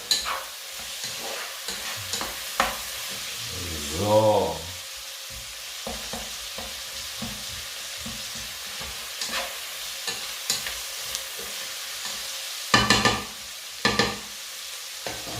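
Food sizzling in a pan while a utensil stirs and scrapes in irregular bursts, frying meatballs; a brief voice is heard once.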